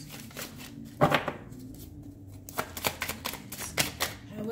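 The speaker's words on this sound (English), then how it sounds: "most people want to see the shuffling on camera" Playing cards being shuffled by hand for a tarot-style reading, with a loud riffling burst near the start and then a series of shorter crisp shuffles and card slaps, close and fairly loud, with no talk over them.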